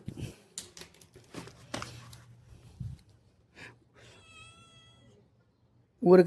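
A house cat meows several times up close in short, uneven calls, with soft rustling and a brief chirpy squeak later, and a loud thump at the end.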